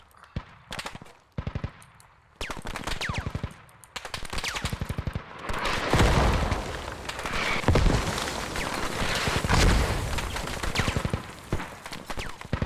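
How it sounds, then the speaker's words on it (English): Sustained bursts of automatic gunfire and heavy booming mortar impacts from a military shooter video game, loud and dense, with rapid rattling volleys that build into a continuous barrage. "I'm getting wrecked by the mortars."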